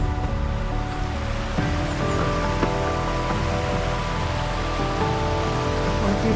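The River Esk rushes beneath an old stone bridge, a steady broadband wash of flowing water, loud and close, continuous without breaks, with no voices over it.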